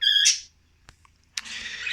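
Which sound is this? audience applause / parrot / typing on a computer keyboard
parrot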